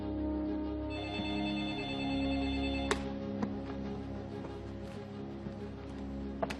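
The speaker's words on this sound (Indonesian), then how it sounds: "Maaf Pak Habibie, ada telepon dari Jerman." A telephone rings with a steady electronic tone in an office setting, moderately loud and continuous, with a few faint clicks and handling sounds over it.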